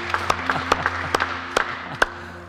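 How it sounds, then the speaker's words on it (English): A church congregation at a Hillsong service claps in a loose, scattered rhythm, sharp hand claps ringing out over sustained background music. "You clap while I breathe."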